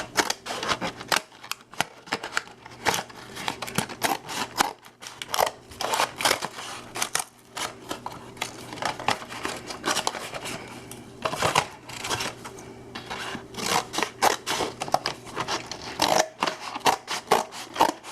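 Scissors cutting a piece lengthwise while setting up a Maidu game: a long run of crisp, irregular snips and paper crackles close by, with brief pauses between bursts.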